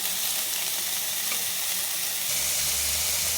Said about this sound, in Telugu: మూకుడు వేడి చేసి నూనె వేసి నూనె కాగాక కాకరకాయ ముక్కలు వేయాలి.